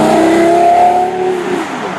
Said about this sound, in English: It doesn't sound inside anywhere near as good as it sounds on the outside, the exhaust note.